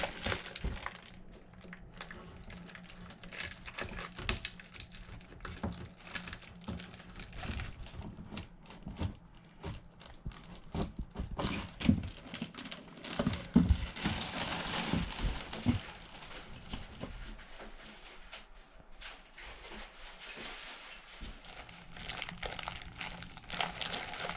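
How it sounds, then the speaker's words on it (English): A sharp knife cuts plastic out of a bathroom fitting, giving irregular crinkling, crackling and scraping bursts, close and fairly quiet, spread over about twenty seconds without talk. "I'm just going to carefully cut the plastic out with a sharp knife"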